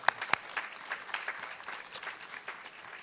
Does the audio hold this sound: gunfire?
no